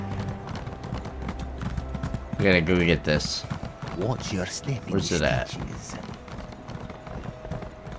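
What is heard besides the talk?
horse hooves clip-clopping in video game The Elder Scrolls Online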